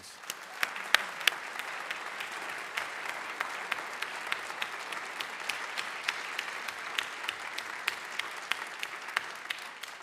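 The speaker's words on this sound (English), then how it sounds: "Let's give him a round of applause." An audience applauds at a university symposium expert panel in a hall, steady sustained clapping for ten seconds with crisp individual claps standing out close by against the dense, even crowd of hands.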